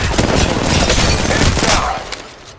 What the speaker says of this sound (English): There's another squad attacking. Another crew's here. We've been set up. Enemy firing.